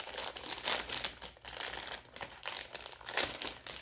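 Crinkling plastic candy wrapper bag of Mary Jane candy being pulled open, with close, loud bursts of crackling and rustling that come in uneven waves over several seconds.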